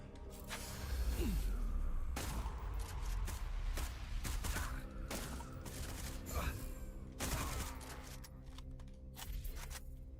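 Shotgun blasts in the video game SlavicPunk: Oldtimer, several sharp reports spread across a busy game soundscape with thumps and background noise, fairly faint overall.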